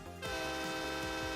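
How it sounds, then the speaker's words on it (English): Loud, sustained train horn blast sound effect with a rich stack of harmonic tones, sounding continuously for over a second after a brief quieter lead-in, with no talk. "I feel like that train horn isn't loud enough."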